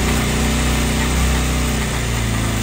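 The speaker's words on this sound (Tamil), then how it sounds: "இந்த மாதிரி வண்டியை ஸ்டார்ட் பண்ணிவிட்டு ஒரு வாட்டி நல்லா விட்டுக்கோங்க" A started motorcycle engine runs steadily nearby, a continuous close drone without pauses or noticeable revving.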